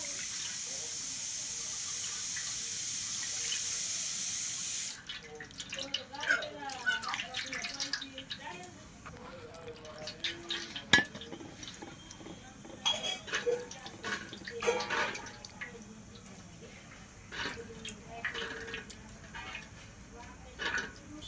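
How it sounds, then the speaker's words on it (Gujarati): Water is poured over a Ganesh idol during a home puja bathing ritual, a steady splashing wash at the start that gives way to intermittent trickles and light metallic clinks of vessels, with a voice faintly present. "હવે પાછું પાણી નાખશું આપણે."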